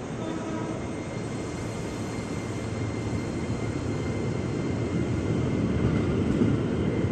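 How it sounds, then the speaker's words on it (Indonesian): A KRL commuter train pulling out of Manggarai station, its low rumble and rolling rail noise building steadily louder as it gets underway, with no voices over it. "kereta diberangkatkan"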